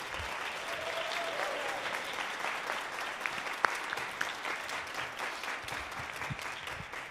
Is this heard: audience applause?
yes